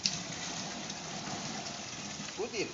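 Water gushes steadily into a bucket while a panchagavya mixture is prepared, a continuous close splashing pour with a brief voice near the end.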